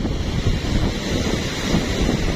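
Strong wind roars steadily across the microphone by the sea, with a low rumble of surf underneath and no one speaking.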